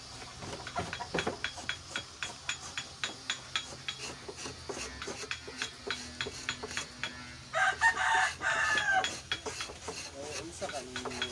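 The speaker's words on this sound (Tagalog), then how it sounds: "Manok." Chickens cluck and a rooster crows amid steady rhythmic rasping and scraping, likely a lechon tray being worked nearby, with a louder burst of crowing partway through.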